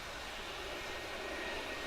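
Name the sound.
aircraft engine on a maiden test flight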